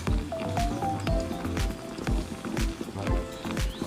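Soaked potato strips for fries are drained, with wet squishing and splashing of water and potatoes shifting in a colander, close and fairly loud in short irregular bursts.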